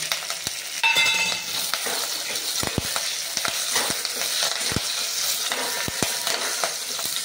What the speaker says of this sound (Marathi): हिरवी मिरची परतून झाल्यानंतर आपण कढीपत्ता घालून घेऊ।